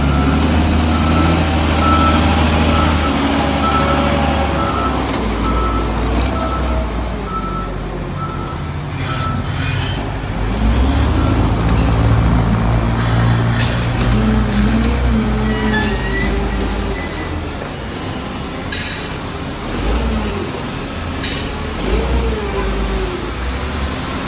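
Diesel truck engine running and revving loudly nearby, with a rhythmic reversing beep repeating over the rumble throughout.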